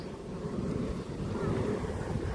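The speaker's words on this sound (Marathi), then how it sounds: "हे बघा इथे आहे वाटतं उलटा धबधबा" Strong wind and rushing water roar at a reverse waterfall in Sadawaghapur, where water spilling over a cliff is blown back upward; a dense, steady outdoor rumble with heavy wind buffeting on the microphone.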